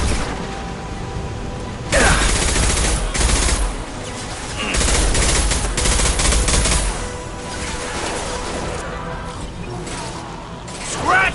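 Sustained automatic gunfire from a Mass Effect 2 Legendary Edition battle on Omega, loud bursts of fusillade with a mechanical clatter, surging in waves around two, five and eleven seconds with brief lulls between.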